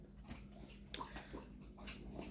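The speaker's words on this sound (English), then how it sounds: "That's my dog drinking water" A dog laps water nearby, giving soft, quick wet licking sounds over a quiet indoor background with a small clink partway through.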